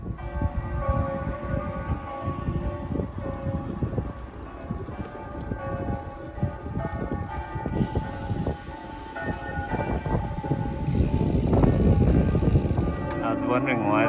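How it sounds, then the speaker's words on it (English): Church bells ring out for a wedding as a pealing, tonal clang that carries from a moderate distance, overlapped by road and traffic rumble, with the bells swelling louder toward the end. "I was wondering why the church bells were ringing so much when we came around the corner, and it's because it's a wedding."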